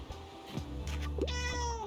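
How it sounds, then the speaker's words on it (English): A cat meows in the video game Tiny Bookshop, a clear rising call that lands over soft background game music. "We do have a cat now, though."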